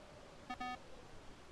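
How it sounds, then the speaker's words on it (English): A beeping device in the horror video game Phasmophobia gives two short electronic tones, the second slightly longer, clean and distinct against a quiet, faint background. "Tell me how many times they beep."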